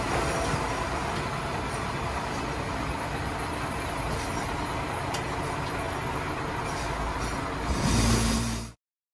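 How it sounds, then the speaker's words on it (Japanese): A JR Hokkaido Senmō Line local train bound for Abashiri from Kushiro runs through the Kushiro Marsh, a loud, steady interior rumble of wheels and engine that swells near the end and then cuts off. "今乗車中の列車は釧路駅16時32分発網走行きの釧網本線の普通列車です。"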